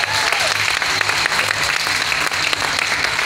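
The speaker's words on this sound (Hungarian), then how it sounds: "és grafikai elkészítője pedig Bilec László, neki is jár a taps." A crowd at a folk dance performance at a village festival in Demecser, Hungary, claps steadily throughout, a dense, even wash of applause with no pauses.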